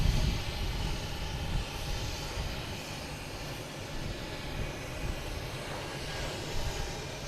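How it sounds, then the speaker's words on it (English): An Airbus A220 jet taking off from Boston Logan, bound for Richmond, gives a sustained, fairly distant engine rumble that swells and fades slightly over several seconds, with no talking. "You have an A220 heading to Richmond that wants to get out of here."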